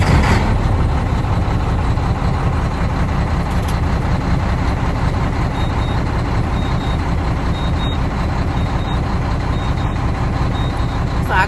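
A Volvo dump truck's diesel engine runs steadily on a cold day, a loud, continuous low rumble that holds unchanged from start to finish, with no voices over it.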